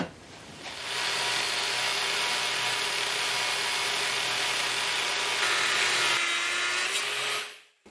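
A metal blade end is cut off square in a workshop, giving a steady, close, continuous rasping cut for about seven seconds before stopping abruptly.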